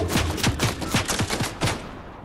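Gunfire in a video game sounds as a rapid series of about eight sharp, loud shots in an uneven burst, each a punchy crack with a low thump, followed by a brief fading tail.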